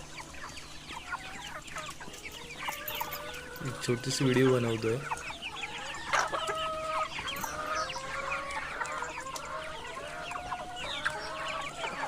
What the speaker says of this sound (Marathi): कोंबडी बाहेर सोडलेत आणि कालचा जो उरलेला भात आहे तो आई कोंबड्यांना घालते